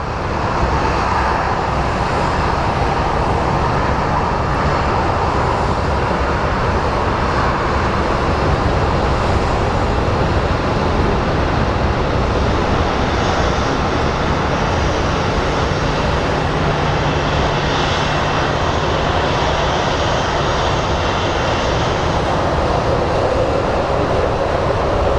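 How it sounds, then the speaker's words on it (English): Steady, loud roar of an airliner departing Phoenix Sky Harbor airport bound for Santa Ana, a continuous broadband engine rumble that holds constant for the whole stretch with no voices. "So let's take a look at this aircraft. Off to Santa Ana they go."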